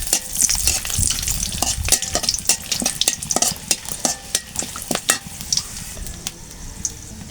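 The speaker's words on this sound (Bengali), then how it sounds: "এখানে ফোড়ন দেওয়ার জন্য কয়েক টুকরা তেজপাতা, দারচিনি, এলাচ ফল আর লবঙ্গ নিয়ে নিছি" Whole spices, bay leaf, cinnamon, cardamom pods and cloves, sizzle and crackle in hot oil in a pan, with frequent sharp pops and stirring clatter throughout, close and fairly loud with no talk.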